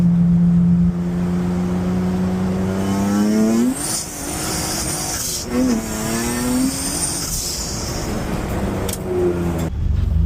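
A turbo V6 Honda Civic pulls hard in third gear, its engine note climbing in loud rising sweeps, easing briefly between pulls, with wind and road roar underneath.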